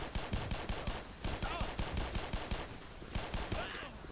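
Rapid automatic gunfire in the Black Mesa multiplayer shooter, a steady burst of sharp repeated shots with brief pauses between bursts, loud and close.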